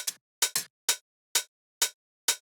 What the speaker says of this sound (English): And if I play it alongside with the other hi-hat,